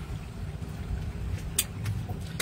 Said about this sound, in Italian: Motori in folle.